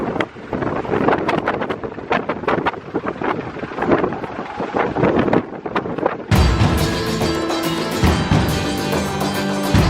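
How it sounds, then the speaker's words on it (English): Strong gusty wind roars and buffets around the open Peel P50 microcar for several seconds, then gives way to a steadier, droning hum. "the wind is blowing me all over the place"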